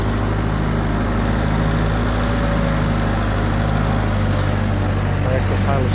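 A 1948 Ford 8N tractor engine idles steadily and loudly up close, a constant low mechanical drone with a slight rise in pitch toward the end.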